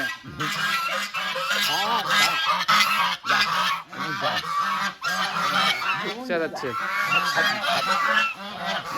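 A flock of village ducks in Bogura honks and quacks loudly and continuously, many calls overlapping close by with no pause in the din.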